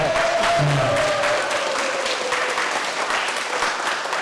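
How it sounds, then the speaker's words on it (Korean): Applause from a lecture audience after a special talk, a broad wash of clapping that stays fairly even and slowly eases, while a faint tonal hum runs beneath it. "박수 부탁드립니다"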